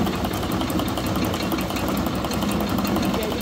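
A 1950 Farmall Cub tractor engine labours under load while driving a 1940 Meadows grist mill, giving a steady, loud, close mechanical drone with a low rumble that runs without a break.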